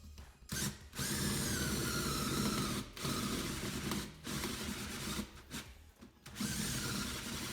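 Cordless drill with a stepped bit boring larger bolt holes into an old wheel, the motor whining steadily in long bursts separated by several brief stops, close and loud.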